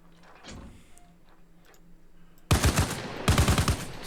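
A .50 cal heavy machine gun mounted on an M113 armored personnel carrier in Arma Reforger fires two loud, close bursts of rapid booming shots after a quiet stretch of faint vehicle ambience.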